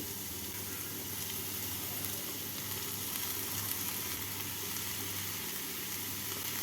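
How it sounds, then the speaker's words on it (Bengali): Carrot and cabbage being stir-fried in a pan give off a steady, moderate sizzle with faint scraping of a stirring utensil throughout, no voices. "বাঁধাকপি দিয়ে নাড়াচাড়া করে নিচ্ছি"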